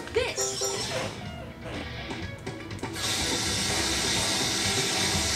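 A mechanical grinding, ratcheting whir of a drill in the Paw Patrol Adventure City game starts partway through and then settles into a steady, loud hiss over busy game music.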